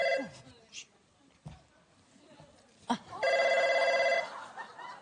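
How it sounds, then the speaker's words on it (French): A telephone rings on a TV comedy show set in a single loud, steady burst lasting about a second, preceded by brief vocal sounds and scattered noises. "Soudain, le téléphone sonne."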